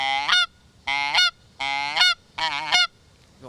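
A person imitates a Canada goose with a clarinet reed, producing four loud, nasal honks of even length separated by short pauses.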